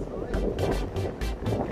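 Gusty wind buffets the microphone outdoors by the water on a cold day, rumbling in repeated surges beneath a voice and other nearby talk.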